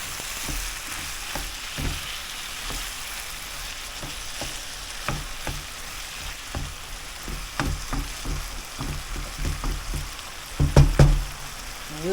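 Ground beef sizzles and crackles in a hot pan with occasional utensil scrapes and stirring bursts, steady and close, growing louder near the end.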